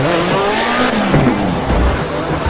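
Race car engine in the Project Cars video game, a continuous loud revving whine shifting pitch, with tire squeal and skidding mixed in over roughly two and a half seconds.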